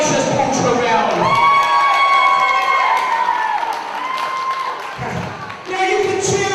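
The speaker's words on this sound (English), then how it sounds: "Now you can cheer as much as you like" A wrestling event crowd at an FWA show cheers, whoops and shouts loudly and continuously, filling the hall, with the roar dipping near the end before rising again.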